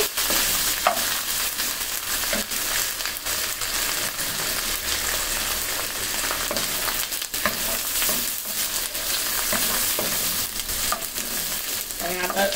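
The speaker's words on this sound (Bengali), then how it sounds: "এখন আদা রসুনটাকে ভালো মতন 2 মিনিটের জন্য ভেজে নিতে হবে।" Ginger and garlic fry in a pan with a loud, continuous sizzle, broken by scraping stirs from a spatula throughout, with no voices.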